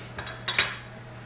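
A spatula scrapes down thick muffin batter in a mixing bowl, giving two short, close scraping strokes against the bowl's sides, with a soft hum underneath and no talking.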